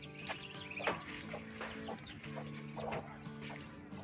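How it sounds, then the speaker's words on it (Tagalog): Chickens cluck softly and repeatedly nearby, short murmuring calls overlapping with a few higher chirps, fairly quiet and continuous. "Very kind chicken."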